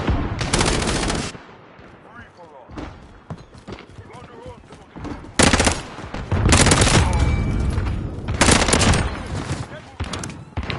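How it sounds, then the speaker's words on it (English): Bursts of rapid SMG fire from the Modern Warfare video game come in several loud volleys, broken by quieter gaps where music plays. "I think this little SMG is pretty good, to be fair."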